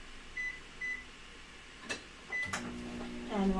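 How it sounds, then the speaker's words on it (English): A microwave oven holding keto bread ingredients is set with a few short beeps from its keypad, then a door clunk and a low hum as it starts running. "So into the microwave that goes."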